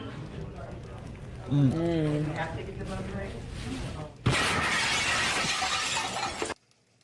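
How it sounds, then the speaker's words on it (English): A car crashing into a restaurant sets off a loud, sudden burst of shattering glass and debris that roars for about two seconds and then cuts off, after an excited voice talking over a busy room. "when a car crashed into the place, striking their table."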